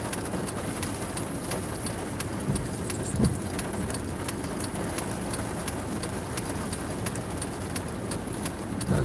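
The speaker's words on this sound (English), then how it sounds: "So it's a rainy day here in Jersey." Steady rain falling on a rainy day in Jersey, a dense continuous hiss with scattered faint drips and taps, heard alone without talk.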